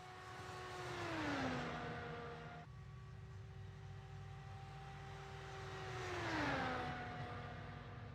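Two F1-series race cars circle a track in a racing game, passing with a rising-then-falling engine whine, the tone dropping as each goes by; faint and distant, repeating twice with a steady hum between passes.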